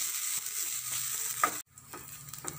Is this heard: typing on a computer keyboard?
no